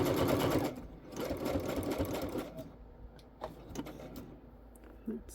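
A domestic sewing machine runs a zigzag stitch along marked lines on fabric for a journal cover, a close, steady mechanical whirring chatter that slows, stops and restarts in short runs with soft clicks.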